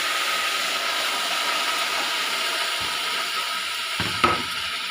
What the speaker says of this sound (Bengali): এখানে যে আমি জল গরমটা একদিকে বসিয়েছি সেটা এখানে আমি ঢেলে দিলাম